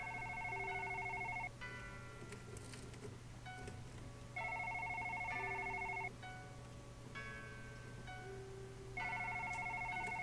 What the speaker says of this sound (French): il y a le téléphone qui sonne en plus